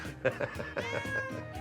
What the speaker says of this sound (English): My cat's an outside cat, but this one's inside